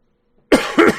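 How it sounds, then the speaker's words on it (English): A person coughs twice right into the microphone after a moment of silence, two loud, close, harsh bursts in quick succession. "Sorry, cough right in the microphone."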